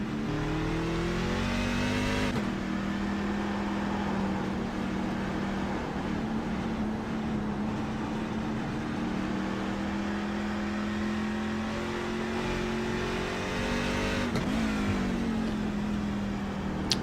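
A racing truck engine in a video game at Circuit of the Americas accelerates down a long straight, a loud continuous droning rev that climbs steadily in pitch, with gear shifts where the tone drops before climbing again.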